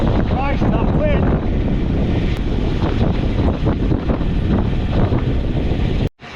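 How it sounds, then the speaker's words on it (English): Strong wind on the Yorkshire moors buffets the microphone in a loud, continuous roar with gusty fluctuations, ending with an abrupt drop. "that wind!"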